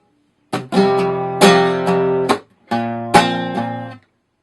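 An acoustic guitar plays a song passage in strong ringing downstrokes, with about six distinct strums in clusters, each chord sustaining before the next, loud and close with no voice.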